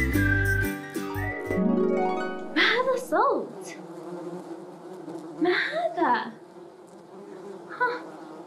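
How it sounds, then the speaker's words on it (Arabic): A bee buzzing as it flies to a flower in a children's cartoon about insects, its drone rising and falling over tonal music and swooping whistle-like effects. "نحلة. إنها تطير إلى الزهرة."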